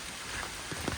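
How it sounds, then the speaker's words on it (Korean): Rain patters steadily on a mountain trail during a heavy rain warning at Hanusan, a soft, even hiss with a few closer droplet taps. "빗소리만 좀 잘 들어갔으면 하는 바람으로 걷고 있습니다"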